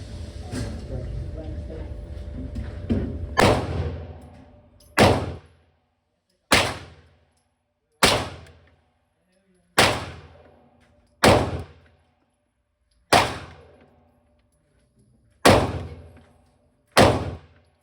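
Rifle shots fired at a target 30 feet (10 yards) away, about nine sharp, separate cracks spaced a second or two apart with quiet gaps between them, following a few seconds of background noise.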